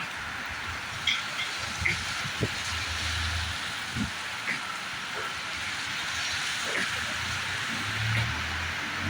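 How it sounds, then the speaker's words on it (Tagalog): Steady heavy rain hisses throughout, with faint scattered clatter and low rumbles underneath. "Ito, malakas-lakas po ng ulan po."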